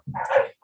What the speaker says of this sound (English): you have a very vocal dog there in the background